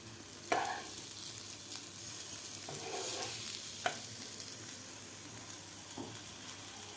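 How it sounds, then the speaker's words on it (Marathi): Soybean chunks fry in oil over a full flame, giving a steady close sizzle broken by a few scraping stirs and light clinks of a spatula against the pan. "बाकीचे सुद्धा आपल्याला अशा प्रकारे फ्राय करून घ्यायचे आहेत"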